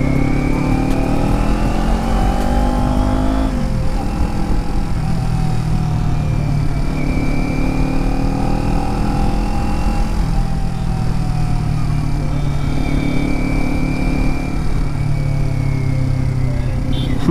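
Kawasaki Ninja 400 BS6 twin-cylinder motorcycle engine running steadily up close, a deep bassy drone with rising and falling revs throughout, no voices over it.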